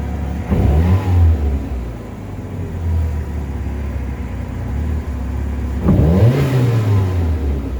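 A car engine fitted with a homemade turbo idles roughly, then revs sharply twice, near and loud, the two rising, falling whoops separated by several seconds of uneven running.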